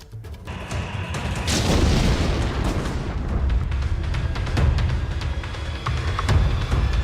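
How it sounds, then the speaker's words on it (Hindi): Heavy artillery shelling in Mariupol, Ukraine: a continuous deep rumble with repeated heavy booms and sharp cracks rolling over one another, loud and sustained throughout. "मारियुपोल में भारी गोलाबारी इस वक्त हो रही है।"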